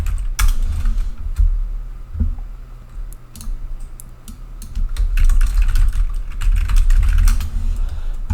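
Rapid typing on a computer keyboard, close and loud, with irregular bursts of key clicks and short pauses against a low steady hum.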